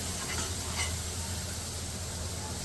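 Finely chopped garlic sizzles in a pan while cooking rice for a KFC-style chicken over rice dish, giving a steady close frying hiss with faint stirring, no talking.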